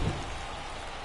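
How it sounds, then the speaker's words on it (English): Steady rain falling over Wrigley Field during a Nationals vs Cubs baseball game in MLB The Show 24, a dense, even hiss of downpour filling the moment. "This rain is not letting up."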